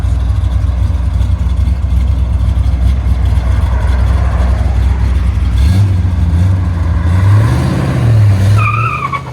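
A 1969 Chevy Corvette Stingray V8 with headers and a Flowmaster Super 44 exhaust, four-speed stick shift, rumbles loudly and steadily, then revs up and down with rising and falling engine pitch near the end, close and alone.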